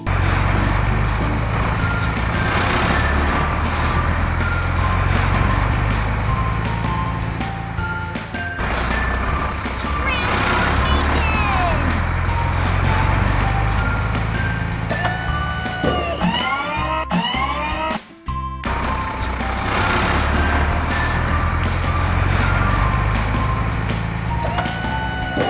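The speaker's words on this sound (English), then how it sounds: "Dump truck." Dump truck at a supermarket construction site reverses with a loud, steady repeating backup beep over its rumbling diesel engine, with a brief air-brake hiss and pause near the end.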